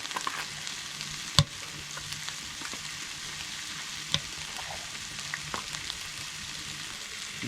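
Moose meat frying in a pan inside a heated ice-fishing tent on a frozen lake, a steady crackling sizzle with a few sharp pops and clinks, close and without talk.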